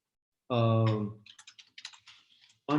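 Typing on a computer keyboard: after a brief voice, a quick burst of light, close key clicks patters for about a second and a half, then another voice begins.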